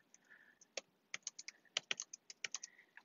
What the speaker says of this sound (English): while I type out this quick message